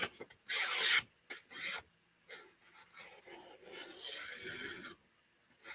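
A knife blade drawn across a 400 grit sharpening stone, with close, dry rasping strokes in irregular bursts of varying length separated by short pauses.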